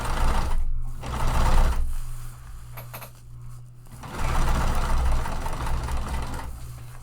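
A sewing machine stitches a tote bag seam in loud, steady whirring runs at regular stitch length, pausing briefly in the middle before starting again, close up.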